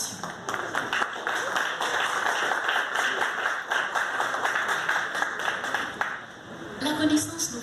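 An audience applauds the director general of the National Library at an anniversary celebration, a steady roomful of clapping that holds loud and even before thinning out near the end, with a brief voice surfacing at the close.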